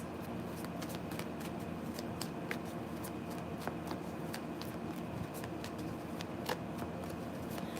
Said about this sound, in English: All right, Jess, I'm shuffling for you now, Jess.